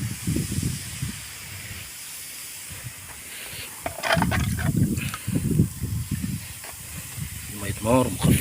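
Diluted muriatic acid splashed from a cup onto a marble floor hisses and fizzes in bursts, with sharp crackling spatters and intermittent voices nearby.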